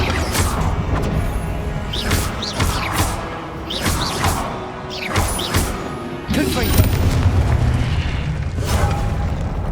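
Incendio fire spell blasts in the Hogwarts Legacy video game, a run of repeated bursting whooshes and thuds layered over a dense, rumbling game soundscape, each blast fairly loud and close.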